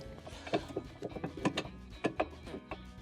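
Metal knocks and grinding clunks sound as a Samsung washer's basket shaft slides into the drum and is wiggled to seat the tub seal, close up and irregular with several scraping thuds and no talking.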